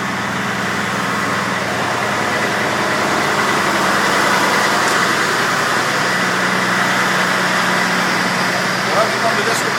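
A Minneapolis Fire Department fire engine idles with its RPMs raised, a loud, steady, low engine drone and hum that holds throughout under a voice speaking.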